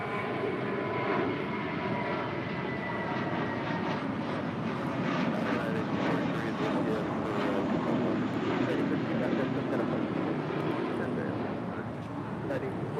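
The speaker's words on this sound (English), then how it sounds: "This is American 32 departing to JFK on an A321." An American Airlines A321 jet bound for JFK departs LAX with a broad, steady engine roar that swells gently and then eases off near the end. The noise carries some wind rumble, and a voice talks underneath it.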